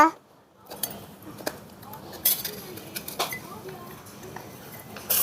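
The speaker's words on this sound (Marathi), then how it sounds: "आता आपण टोमॅटो कापायचं" A knife slices through a tomato with a few soft, sharp clicks and taps, spaced out over a quiet outdoor kitchen backdrop beside a small traditional clay stove.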